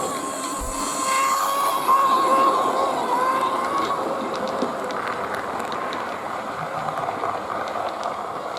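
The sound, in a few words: model train motor with Portescap gearbox whining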